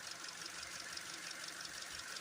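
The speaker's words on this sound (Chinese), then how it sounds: "我们现在启动发动机来盯一下发动机还有没有转气声和怠速不稳" A car engine idles after its broken camshaft gear was replaced and the timing reset, giving a steady, fairly quiet mechanical hum with a faint even ticking and no voices.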